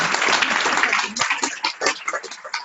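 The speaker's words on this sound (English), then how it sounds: "Big round of applause for Montana." Audience applause at a genetics summit state team project report-out, a dense burst of clapping that thins into scattered claps within a few seconds.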